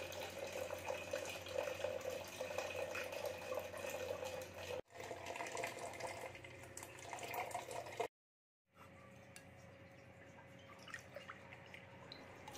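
Water running from a kitchen tap into a vessel for making tea, a steady moderate trickling and splashing that continues with a couple of abrupt breaks.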